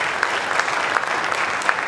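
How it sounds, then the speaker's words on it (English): Audience applause rings out for church capital campaign volunteers at a kickoff event, a steady dense wash of clapping with a few sharper individual claps, held at moderate level throughout. "let's give them all a big round of applause for all your hard work"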